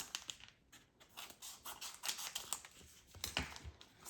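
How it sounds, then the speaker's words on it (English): Scissors cut open plastic toy packaging for a miniature food set, with a quick run of close crisp snips and crinkles going on steadily throughout, with no voices. "I'm going to cut these."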